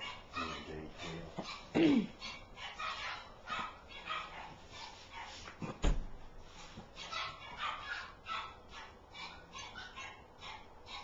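Large dogs whine and yip on and off, with a couple of sharper barks standing out over faint background voices and rustling.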